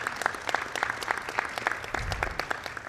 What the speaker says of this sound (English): Please give Dave Chamberlain a round of applause as well.